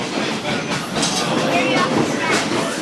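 A Whitewater Valley Railroad Valley Flyer train rolls on the rails with a steady, loud wash of rumbling wheel and carriage noise, continuous and close, with no clear pauses.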